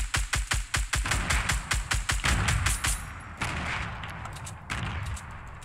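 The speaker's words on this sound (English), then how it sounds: "I'm gonna shoot these trees out of here" Gunfire in the battle-royale game Fortnite as a player shoots down trees: a quick run of about fifteen loud, close, evenly spaced shots with a thumping low end, then the firing stops and a fainter rumbling tail lingers.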